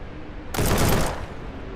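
A single shotgun blast in a video game bursts out loud and close, then decays into a short rumbling tail over a quiet background.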